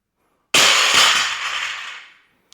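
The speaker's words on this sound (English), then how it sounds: "we're gonna go ahead and do a drop just without any weights on here" An empty Rival Steel Royal Gold barbell dropped onto the floor gives one loud, close metallic crash with a brief second impact, then a bright ringing decay that fades over about a second and a half.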